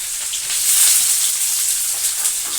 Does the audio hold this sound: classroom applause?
no